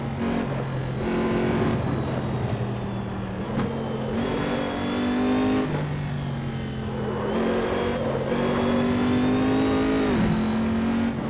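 Simulated Corvette C7R GTE race car in Assetto Corsa on the Nürburgring, its engine revving loud and steady, pitch climbing and dropping through gear changes with a sharp upshift near the end, continuous with no talk.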